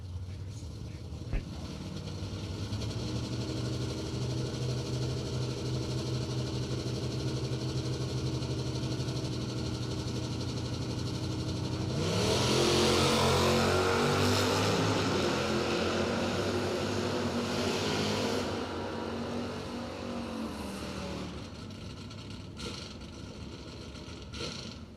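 A drag race between a heavy Chevy and a 1969-bodied Chevelle at a bracket race: engine drone idles at length, then both cars launch into a loud roaring pass that swells and fades, with an announcer talking over it.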